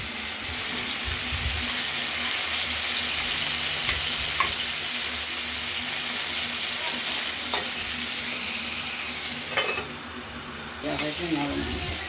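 Pointed gourd fries in oil with prawns, a steady close crackling sizzle with occasional stirring clinks and scrapes.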